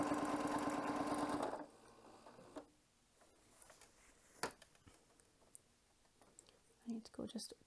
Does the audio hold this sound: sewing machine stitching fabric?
yes